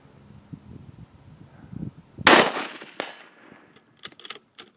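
A Mossberg MVP rifle fires one sharp, loud shot that rings off in a decaying tail. Faint low rustling comes before it, and a few brief clicks follow.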